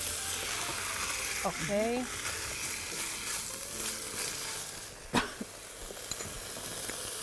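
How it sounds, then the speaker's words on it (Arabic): Chicken sizzles steadily in a hot pan, with a continuous frying hiss running under brief voices and a sharp utensil knock partway through. "لازم نستنى على الدجاج يستوي شوي قبل ما نضيف البهارات"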